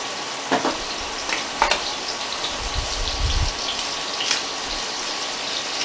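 Short ribs browning in butter in a hot pan, a steady close sizzle and crackle with occasional soft bumps and stirs, no talking.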